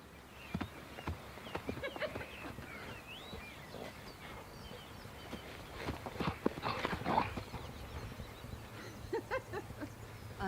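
Scattered hoof clops from a horse moving at a slow walk, mixed with faint bird chirps and light outdoor background noise.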